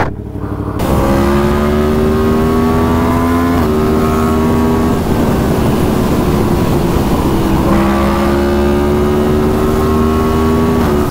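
A Yamaha MT10 motorcycle engine while riding on a cold road, a loud, steady droning roar that holds close and constant throughout, its pitch stepping up and dipping slightly with gear changes and throttle.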